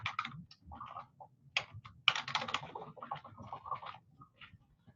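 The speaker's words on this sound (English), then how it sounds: "I'm actually going to go to Google and type in" Keys on a computer keyboard clatter in quick, uneven bursts as a Google search is typed, with brief pauses between runs of keystrokes, close and fairly quiet with no talking.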